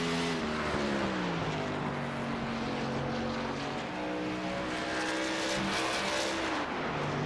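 A race car, the number 17 machine, in an iRacing simulation at Phoenix, its engine droning steadily with rising and falling harmonic pitch as it circles the track, loud and continuous.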